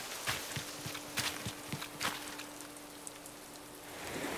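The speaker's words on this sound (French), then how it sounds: "Vous voyez, la pluie, elle va cesser." Rain patters steadily in the Animal Crossing video game, a soft continuous hiss with scattered drops and faint tapping steps, fairly quiet throughout with no talking.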